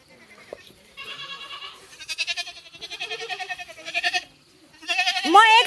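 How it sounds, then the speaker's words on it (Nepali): A goat bleats repeatedly in rural Ramechhap, Nepal: a string of loud, close, wavering cries in quick succession, ending in a higher, rising bleat. "बाख्रा होइन क्या"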